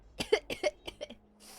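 A rapid burst of several harsh coughs in quick succession, close and fairly quiet, trailing into a breath.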